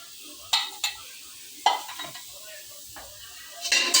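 Green chillies and garlic cloves frying in oil in a pan, a soft sizzle broken by a few sharp clanks and scrapes of a spoon against the pan.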